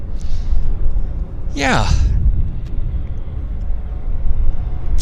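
A CRJ jet approaching Vancouver airport gives a deep, continuous roar close by with a sweeping whoosh as it passes, and a brief word is spoken over it.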